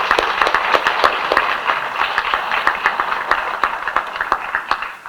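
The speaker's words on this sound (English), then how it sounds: "So I want to give another round of applause and thank you for being here tonight." An audience of family and friends at an elementary school dedication gives a round of applause, a moderately loud wash of many hands with sharper individual claps popping out, fading slightly toward the end.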